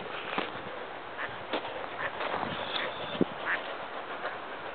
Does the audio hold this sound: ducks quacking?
yes